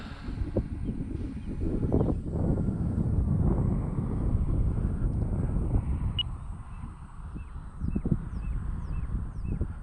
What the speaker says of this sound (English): Oh, that wind, man. Is not being nice to me today.